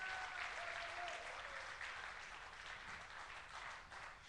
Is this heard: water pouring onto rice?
no